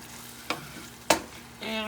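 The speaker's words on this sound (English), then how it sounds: "let this cook until the meatballs get cooked through" Meatballs fry in a pan for a dinner dish, a steady close sizzle broken by two sharp scrapes of stirring and a louder burst of spitting at the end, with no voices.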